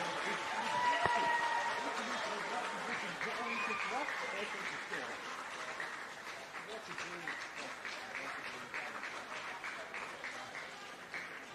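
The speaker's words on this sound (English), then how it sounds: "Massive round of applause for Walton Lee Dale." Applause from spectators at an under-10s youth football plate final, honouring the runners-up team: a steady, fairly distant patter of clapping that holds throughout, under a voice addressing the crowd.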